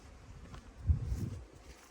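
Honeybees buzz around a strong beehive, a low steady drone close by with a brief louder swell near the middle as bees pass near.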